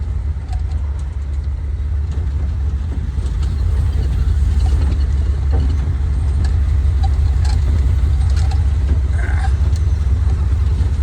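A 1958 Edsel hardtop's engine hums steadily from inside the moving car, a low continuous drone whose revs climb slightly as it shifts into underdrive, with faint interior rattles.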